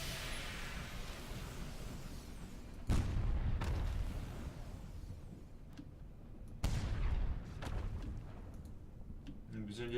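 Ship cannon fire in the video game Sunless Skies: two heavy booming shots several seconds apart, each with a sharp onset and a rumbling tail, over a low game ambience.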